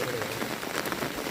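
Heavy rain pours steadily at night beside a stream where fish traps are being checked, a dense, loud, continuous hiss of drops striking the surface.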